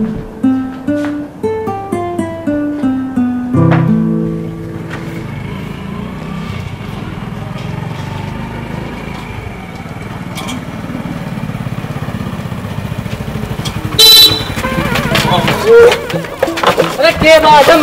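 A motorcycle engine runs and revs with a rough, continuous drone, punctuated near the end by a loud burst like a horn, while people's voices talk over it.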